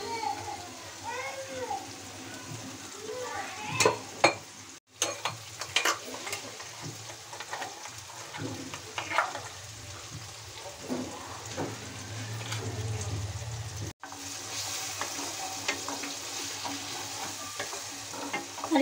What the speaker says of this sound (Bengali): মশলাটা ভালোভাবে ভেজে নেব।